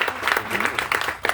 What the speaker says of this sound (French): Oui, ça s'applaudit.